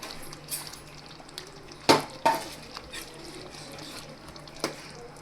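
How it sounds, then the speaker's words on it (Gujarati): Paneer pieces stirred into palak gravy in a pan, with a few sharp spoon knocks and scrapes against the metal over a soft background hiss, close and fairly quiet. "અને તેને હલાવીને મિક્સ કરી લેશું"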